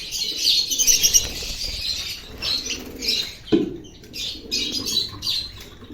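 Birds in a bird farm enclosure: bursts of wing flapping and fluttering mixed with chirps and soft cooing, with one sharp thud midway. No voices.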